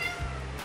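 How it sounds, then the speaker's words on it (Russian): A stray street cat gives a short meow, close and moderately loud, lasting well under a second with no talk over it. "У нас уличный кот."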